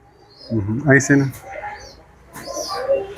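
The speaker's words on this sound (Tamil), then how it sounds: "இது நம்ம பழைய புறா." An old racing pigeon in a pigeon loft gives a low, throaty coo, a few rolling pulses close by, with someone talking nearby.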